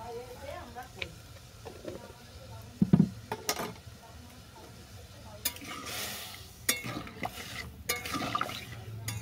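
A spoon scrapes and stirs taro pieces in a pan with turmeric and salt, with soft sizzling and intermittent clinks of utensil against metal, while a voice talks quietly over it.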